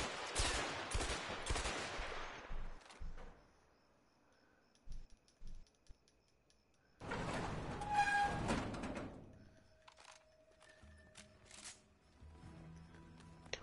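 Gunfire from the co-op video game A Way Out comes in two dense bursts of rapid shots at people, separated by a few isolated pops, with quieter game sounds in between.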